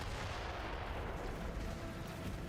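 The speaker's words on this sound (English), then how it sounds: "bunch of shit just exploded, as it would seem" Explosions in the video game DOOM: The Dark Ages, a dense continuous rumble of booming blasts and gunfire, heavy in the low end and fairly faint overall.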